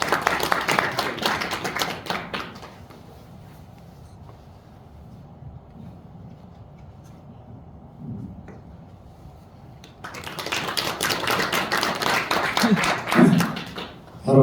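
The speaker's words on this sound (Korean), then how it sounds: "우리 박수로 모시겠습니다." Audience clapping to welcome a speaker at a Korean association leaders' gathering, heard as bursts at the start and again near the end, with a quieter stretch between.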